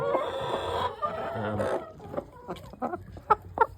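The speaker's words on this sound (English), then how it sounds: "hey, get out of the way. Silly chicken." Farm chickens cluck and squawk in short, irregular bursts close by, with a continuous rustling and a human voice briefly heard early on, the clucks growing more distinct toward the end.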